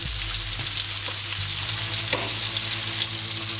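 Meatballs fry in butter in a pan, giving a steady, close sizzle and crackle with a low hum underneath and occasional stirring clicks, with no talking.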